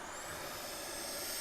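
Steady breathy rush of air from the bellows of a wind instrument with no keys pressed, a continuous close hiss with no pitched note.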